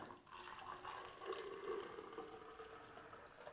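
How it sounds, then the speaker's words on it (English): Milk poured from a jug into a smoothie maker runs as a faint, steady liquid stream with gurgling and splashing, continuous for a few seconds at low volume. "Whoa, terrible pour of that jug."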